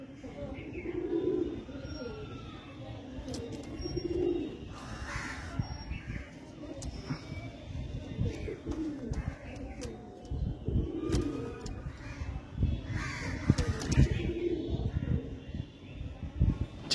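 Kalsera old-line pigeons give low, throaty coos at intervals over about seventeen seconds, quiet and somewhat distant, mixed with frequent crow caws and general outdoor background noise.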